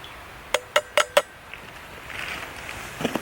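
Four quick metallic clinks of a container of hot water being opened, followed by faint rustling and a few softer knocks, heard close up in subzero snow-camping conditions.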